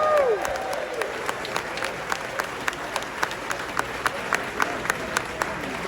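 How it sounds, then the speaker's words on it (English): A crowd at a Tennessee Speaker's annual burgers event applauds the Governor, a dense patter of clapping with a few sharper claps standing out, steady and moderately loud across the whole stretch. "All right, let's give him one more round of applause for Governor."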